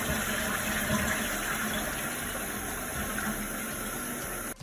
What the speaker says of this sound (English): It was a toilet flushing.